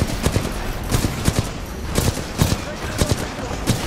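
An enemy turret in Titanfall 2 fires rapid, irregular bursts of gunfire, loud and dense, with other combat noise in the background.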